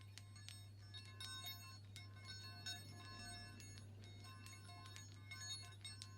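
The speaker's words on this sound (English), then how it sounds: "These silver balls, these are my chime balls, which I love working with when I'm meditating." Small silver meditation chime balls ringing softly and steadily, with scattered high tinkling strikes over a low constant hum, faint and close.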